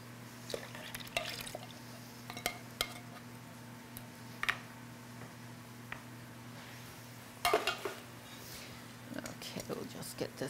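Seafood Newburg mixture being stirred in a pot, with soft wet squelches and occasional utensil clinks against the pot over a low steady hum, faint and intermittent.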